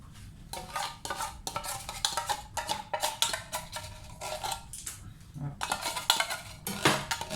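Cheese is sliced for macaroni salad, giving rapid, uneven knife clacks and taps against a board or dish, close and fairly loud, with brief pauses between bursts.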